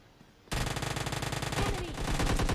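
UZI submachine gun in the PUBG Lite video game fires a sustained loud rapid burst, each shot in a fast even rhythm, starting abruptly after a quiet moment and running to the end.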